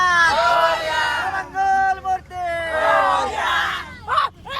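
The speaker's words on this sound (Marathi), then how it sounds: "जबरदस्त गर्दी आहे बघा" Crowd on the road during a Ganpati immersion procession: excited voices shouting and cheering in loud, overlapping bursts with short lulls, close by.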